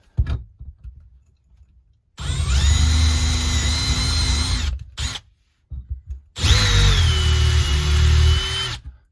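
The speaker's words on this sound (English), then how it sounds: "we can drill our 5mm holes." A drill runs through 5mm holes in the timber of a camper-van top cupboard during hinge fitting, in two loud sustained bursts of several seconds each, with short quiet gaps and a few handling knocks between them.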